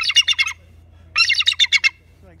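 A large bird squawks loudly and close by in two rapid bursts of four or five harsh, clipped calls, separated by a short pause of near silence.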